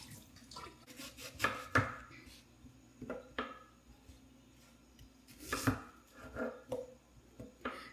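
Kitchen knife chopping onions for a homemade chicken curry, irregular clusters of sharp taps on a board with occasional louder strikes, close and fairly quiet, no voices.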